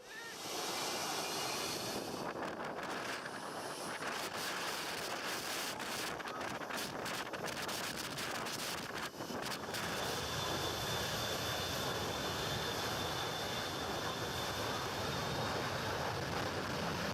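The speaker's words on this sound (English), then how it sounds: "When jets power up for takeoff, they blast the beach with hurricane-force winds" A jet airliner powers up for takeoff at St. Maarten airport beside the beach, its engines giving a steady, loud broadband roar mixed with wind buffeting and surf, sustained throughout.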